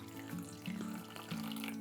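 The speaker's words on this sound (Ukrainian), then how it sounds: "а сюди ми заливаємо гарячу воду" Hot water, boiled in a kettle and left to stand about 20 minutes, pours steadily into a deep container for seed sprouting, a continuous close splashing stream with a few surges.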